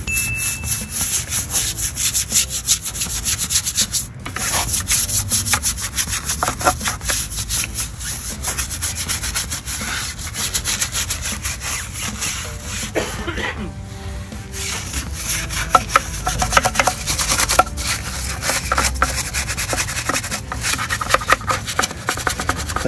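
A product is scrubbed by hand over the surface of a Volkswagen Jetta, producing loud, rapid back-and-forth rubbing strokes that repeat steadily at close range, with a brief pause partway through.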